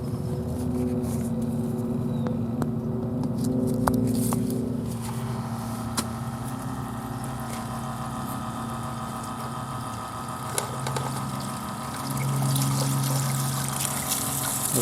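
A small 30-watt pump runs steadily, pushing water through six-foot tubing into a backyard pond converted from a swimming pool, with a constant hum and trickle throughout.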